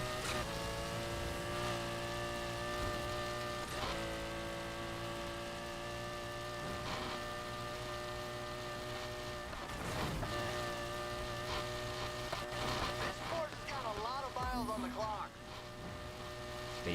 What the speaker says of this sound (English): You can like hear this car.